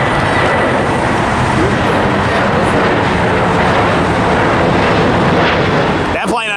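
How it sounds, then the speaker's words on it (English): A Sun Country airliner takes off at LAX with a loud, sustained jet roar that fills the whole stretch, constant and broad, as if from an airport viewing spot. "That plane unexpectedly took off"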